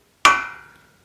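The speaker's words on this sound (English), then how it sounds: "you'll probably either have to use a hammer or a screwdriver to break the locking hub free from the wheel hub assembly" A single sharp hammer strike knocks a locking hub free on a Ford Super 60 front axle from an F-250/F-350-type 4x4. The strike rings briefly with a metallic tone and fades out within about half a second.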